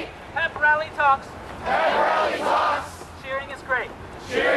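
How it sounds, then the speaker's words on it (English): A crowd at an Occupy Boston general assembly breaks into a loud cheer, a roaring swell in the middle between stretches of a single voice speaking close to the microphone. "cheering is great"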